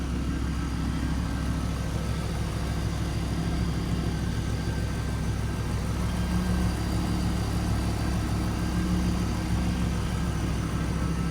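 A 1991 Pontiac Firebird Formula with a 350 V8 idles with a steady, deep burble and a low, pulsing rumble that holds at an even level throughout, close by with no talking.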